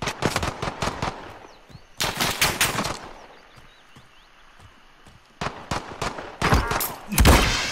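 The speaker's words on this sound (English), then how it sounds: "That was the fastest gunfight I've ever seen." Video game gunfight during a 2v2 private match: sharp bursts of rapid automatic fire in several separate volleys with quiet gaps between them, fairly close and loud.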